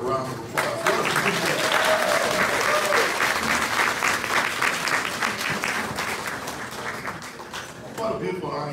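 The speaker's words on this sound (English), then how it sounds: "Let's give that color guard a round of applause." A dinner audience in Vallejo applauds a color guard, loud, full clapping from a large room that swells quickly and holds steady for several seconds before fading, with a voice briefly audible near the end.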